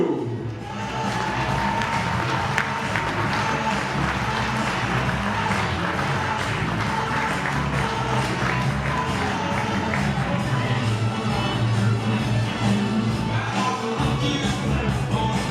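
A wedding crowd applauds and cheers steadily for the mother of the bride as she is escorted in, a dense, sustained wash of clapping and whoops with a faint tone running beneath.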